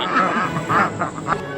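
An escaped backyard duck on a homestead quacks several times in quick succession, close and fairly loud, with brief pauses between calls.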